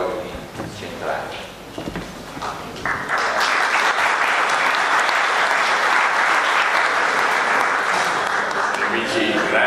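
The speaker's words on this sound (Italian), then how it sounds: "spero di meritare l'applauso" Audience applause at a CAI instructors' congress in Erba, a dense, loud sustained clapping that builds after a few seconds of voices and room noise and carries on to the end.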